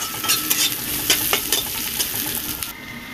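Garlic frying lightly in a pan before greens go in gives a close, continuous sizzle, broken by several sharp stirring clicks and scrapes, with the frying fading out near the end.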